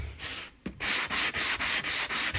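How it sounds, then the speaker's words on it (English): A sanding block rubs back and forth on pine wood in steady, even strokes, about seven rasping passes after a brief start, loud and close with no talking. "And I'm gonna grab my sanding block."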